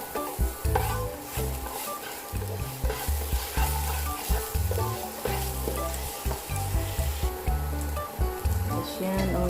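Garlic sautéing in a pan for breakfast, a loud close sizzle broken by repeated clacking stirs and scrapes in an uneven rhythm, with occasional faint voices in the background.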